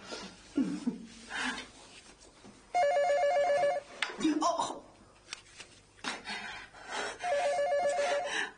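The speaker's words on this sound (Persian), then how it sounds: "من خودم میخوام تلفن جواب بدم." A telephone rings in bursts in a film scene, electronic trilling rings separated by pauses, heard close with voices and small movements between the rings.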